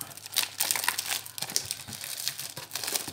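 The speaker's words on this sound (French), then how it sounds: "Alors, je vais déballer ça." Paper or plastic wrapping crinkles and rustles close by as a gift is unwrapped from a parcel, with irregular crackling handling noises throughout.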